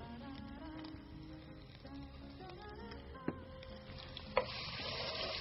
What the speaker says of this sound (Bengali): এর জন্য আমি প্রথমে দেব আদা রসুন পেঁয়াজ বাটা